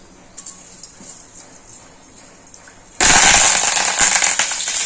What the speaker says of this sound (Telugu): పోపు వేసుకొని జీలకర్ర, ఆవాలు,